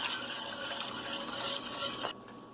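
Whisk stirring vegetable broth into a pot of vegan zuppa toscana, a close, busy swishing and scraping that runs steadily for about two seconds before cutting off abruptly.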